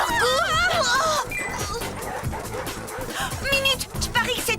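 Cartoon werewolves bark, yip and whimper in quick bursts over busy background music, close and fairly loud.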